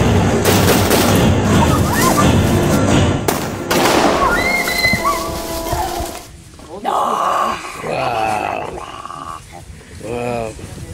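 Prop machine gun fire on a film set: a dense rapid burst of loud cracks rings out for several seconds, followed by people talking nearby.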